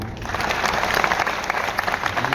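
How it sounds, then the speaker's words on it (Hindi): A crowd applauds for a child at a Bageshwar religious gathering, with steady, dense clapping filling the whole short stretch at close range. "एक बार इस बच्चे के लिए ना ताली हो"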